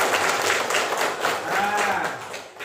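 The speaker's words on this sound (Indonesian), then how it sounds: "Yuk, tepuk tangan untuk kita semua." A class of fifth-grade children applauding in a classroom, a dense, continuous patter of many small hands clapping together at close range, with children's voices mixed in.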